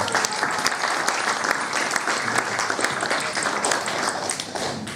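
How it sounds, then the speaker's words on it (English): Wedding guests at a reception clap together for a couple's 45th anniversary, a dense, steady patter of close hand claps that stays loud throughout. "Round of applause for this evening."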